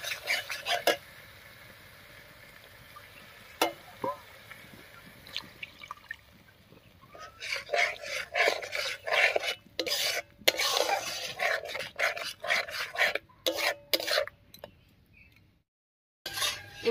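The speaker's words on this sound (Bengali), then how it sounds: "এবারে মশলা বাটা জল দিয়ে কষিয়ে নেব।" Spice paste with water sizzles and is stirred in a pan while cooking a village-style chicken curry with ash gourd: a quiet stretch, then crackling, spattering bursts and scraping from midway, stopping abruptly near the end.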